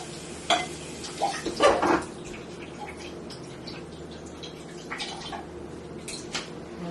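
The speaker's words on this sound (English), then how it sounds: "So I'm going to add about a quarter cup of water to this and swish it around" Water swished around in a pan to loosen leftover sloppy joe sauce, heard as a few soft sloshes and light metallic clinks near the start, then faint intermittent liquid movement in a quiet kitchen.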